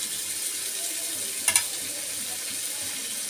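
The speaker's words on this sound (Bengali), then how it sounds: "মাছটা আমি একদম দশ মিনিট কষাবো" Poa fish being sautéed in a pan over low heat, a steady moderate sizzle with two quick clinks of a utensil against the pan midway.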